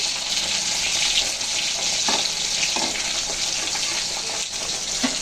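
Hilsa fish fry in hot oil, giving a steady, close hiss and crackle with a few brief louder spits over the top.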